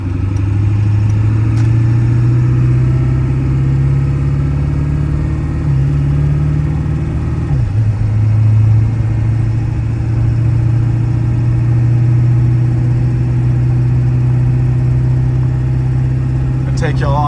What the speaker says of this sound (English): the turbo diesel just wants more